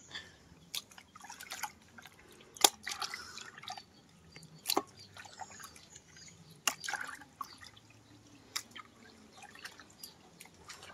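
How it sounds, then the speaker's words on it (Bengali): Cut raw chicken pieces being washed in water in a home kitchen, with scattered drips, splashes and small knocks at irregular intervals, fairly quiet and close. "এখানে চিকেন গুলো ধুয়ে নিচ্ছে।"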